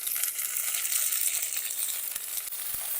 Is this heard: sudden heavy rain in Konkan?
no